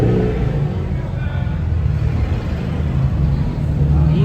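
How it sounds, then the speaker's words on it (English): A Mitsubishi Evo's engine rumbles and revs steadily at a late-night car meet, loud and close, with traffic noise and crowd murmur mixed in. "Evo making nice noises."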